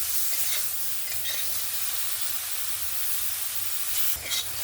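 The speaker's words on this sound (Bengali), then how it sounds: "চিংড়ি মাছগুলো সুন্দরভাবে ভেজে নিয়েছি, এবার তুলে নেব।" Large prawns fry in hot oil in a pan, giving a steady loud sizzle and hiss with a few brief spatters and stirring knocks, close and with no talk.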